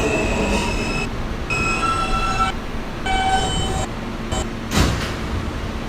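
Brooklyn-bound F local subway train at Roosevelt Island station, rumbling with tonal wheel and motor whines that rise and drop in bursts, plus a sharp metallic clank near the end, loud and close with no voices.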